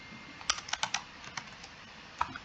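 Keys on a computer keyboard tapped in a quick burst of clicks, a pause, then a couple more presses, close and fairly quiet over a soft room hiss.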